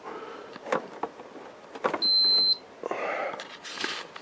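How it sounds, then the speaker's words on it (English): A dehumidifier gives a single steady electronic power-on beep lasting about half a second, clear and close, with faint clicks and handling noise before and after. "That was a good healthy beep."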